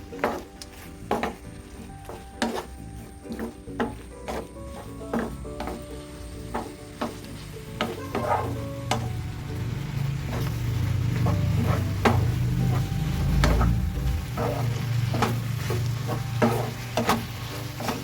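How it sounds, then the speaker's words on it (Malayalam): Crushed cardamom stirred into a sweet banana snack in a pan, with repeated clacking scrapes of a spoon against the pan over a bubbling sizzle that swells louder midway. "ഇളക്കി കൊടുക്കാം"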